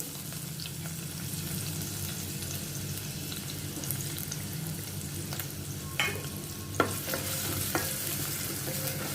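Long-cut onion slices frying in oil toward golden brown, a steady close sizzle with occasional scraping stirs, pulav preparation, no talk.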